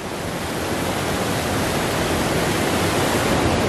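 Rushing water pours over a waterfall at Rock Creek Falls, a dense, unbroken roar heard close up with nothing else over it.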